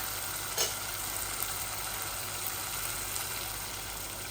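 Spices fry in a pan with a steady, even hiss that has a faint low hum underneath, heard close and continuous with a couple of small clicks and no talking.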